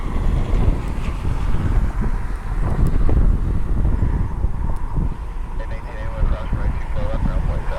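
Strong gusting wind at Cleveland Hopkins airport roars and buffets the microphone loudly and continuously, with low rumbling turbulence and a voice talking faintly underneath.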